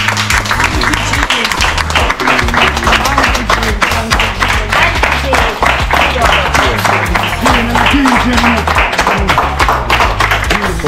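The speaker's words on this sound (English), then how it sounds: "Clap Gene for the kids and for the donation a while ago." A crowd applauds a donation, and the dense clapping continues loud and steady throughout. Voices and chanting mix in beneath it.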